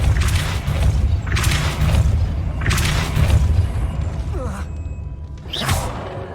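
Spell blasts from Depulso being cast in Hogwarts Legacy, heard as several loud booming whooshes in a steady rhythm, each a sharp burst that fades quickly, close and prominent with no talk.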